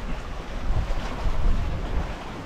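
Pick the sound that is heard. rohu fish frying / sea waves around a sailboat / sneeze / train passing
sea waves around a sailboat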